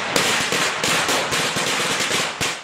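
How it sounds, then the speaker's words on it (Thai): A string of firecrackers set off during Chinese New Year worship to drive away evil spirits, loud rapid cracks in a dense, irregular burst close by, with no voices. "มีการจุดประทัดไล่สิ่งชั่วร้าย"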